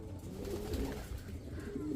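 Racing pigeons coo softly in low, rounded calls, several overlapping in a continuous murmur, fairly close with faint background hiss.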